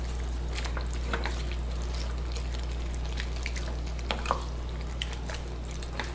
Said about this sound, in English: So we're just going to go ahead and add a little more water to it.